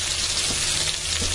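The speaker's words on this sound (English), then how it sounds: "And I'm going to give my brats a stir here, so they'll burn." Bratwursts sizzling in a pan on an outdoor cookout as they are stirred: a loud, dense, steady hiss that fills the whole moment, with soft shifts as the sausages move.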